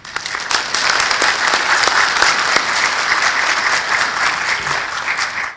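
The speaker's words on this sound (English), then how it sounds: "I think they need to have a round of applause." A round of applause at a college graduation ceremony, a full crowd clapping steadily and close, with a few sharper claps standing out before it tapers at the end.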